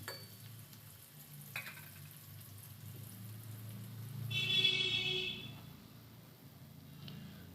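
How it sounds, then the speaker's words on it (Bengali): Par-boiled potatoes frying in oil in a kadai, a soft steady sizzle that stays fairly quiet, with a brief brighter hiss swelling in the middle before settling back down. "ফুলকপিটা নামিয়ে নেওয়ার পরে এখন আলুটা ভেজে নিচ্ছি"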